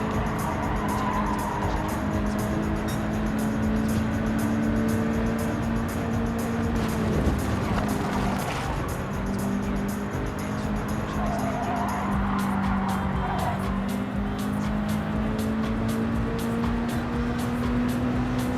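Race car in Gran Turismo 7 held at full speed through a sweeping curve section, a loud continuous engine drone whose pitch slowly rises and dips, with tire squeal over the steady roar.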